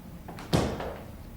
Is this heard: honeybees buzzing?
no